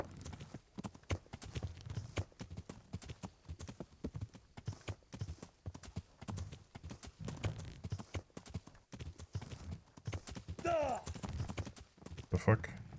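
A horse's hooves in Kingdom Come: Deliverance clip-clop in a fast, steady rhythm throughout, with a brief whinny-like cry near the end and someone talking over it.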